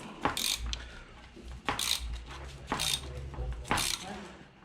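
Ratchet wrench fitted with an 18 mm socket loosening a bolt on a Renault Megane 2, giving four short bursts of rapid ratcheting clicks about a second apart, close up, with faint mechanical handling between them.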